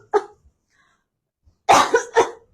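A person coughs close by: one short cough, a pause, then a pair of harsh, chesty coughs in quick succession.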